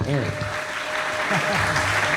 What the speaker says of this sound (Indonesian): Wes, tepuk tangannya.